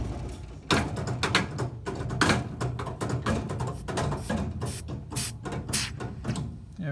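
Continuous mechanical clattering and rhythmic hissing chuffs from a Bendix Hydrovac vacuum brake booster under test, dense and steady throughout, recorded up close with no talking.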